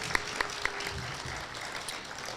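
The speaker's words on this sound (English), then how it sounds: "So let's give a big round of applause to the class of 2020 one last time." Steady applause for a graduating class of 2020 at a high school final assembly, a dense hiss of clapping with a few sharper claps near the start, moderately quiet and continuous throughout.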